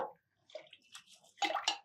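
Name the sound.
water washing rice and moong dal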